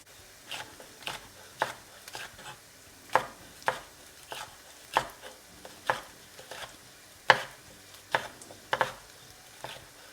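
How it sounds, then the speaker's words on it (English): Long peppers being thinly sliced with a knife on a board, about twenty crisp, evenly spaced chops, close and clear with no talking. "I am just going to thinly slice these 2 as well"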